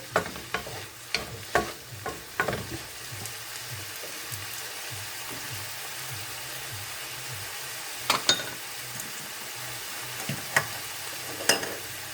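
A pan of creamy sauce with a little lemon sizzles steadily while a utensil stirs and scrapes it, giving a series of sharp clinks and scrapes early and late over a continuous frying hiss.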